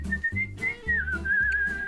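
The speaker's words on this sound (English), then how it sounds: "He's doing old man whistle." A person whistles a short wavering tune close up, over a low rhythmic backing beat.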